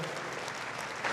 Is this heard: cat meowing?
no